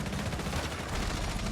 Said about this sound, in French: Zephyr qui inflige un magnifique headshot à Ars